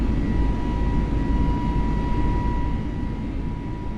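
Airliner cabin sound in Microsoft Flight Simulator, an A32NX on a Barcelona to Lisbon flight: a loud, steady engine roar with a faint whine, fading slightly near the end.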